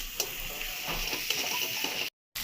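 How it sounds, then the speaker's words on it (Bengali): Ingredients for a Bengali-style mutton curry, with garlic in the mix, sizzle steadily in a pan, with occasional light scrapes of stirring close by and no talk, before a brief cut to silence. "ভালো করে আমি এটাকে কষিয়ে নিচ্ছি।"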